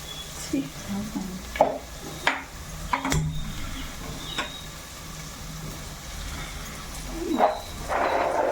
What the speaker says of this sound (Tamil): நல்லா போட்டு வதக்கிட்டு அடுத்தது ரொம்பவும் தீய விடக்கூடாது